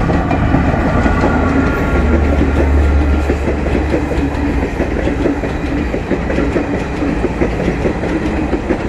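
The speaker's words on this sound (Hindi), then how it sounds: "ट्रेन है कानपुर काठगोदाम गरीब रथ एक्सप्रेस" Kanpur-Kathgodam Garib Rath Express rolling past at close range, a loud continuous rumble with steady clickety-clack of wheels over rail joints throughout, no voices.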